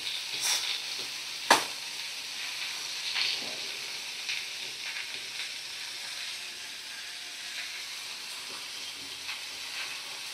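Ginger-garlic paste, chopped tomato and green chilli fry in a pan of fish curry with broccoli and cauliflower, giving a steady, fairly faint sizzle and hiss broken by a couple of sharp clicks near the start.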